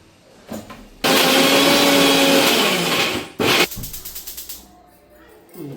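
Kitchen mixer grinder blending coriander powder, turmeric and salt into masala paste: a loud whirring spin of about two seconds, then a short second pulse, with a voice speaking briefly around it.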